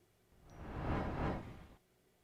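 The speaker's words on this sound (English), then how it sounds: "we want to play an audio file, which will be the swoosh sound like this." A single soft whoosh swells and fades over about a second, quiet and alone.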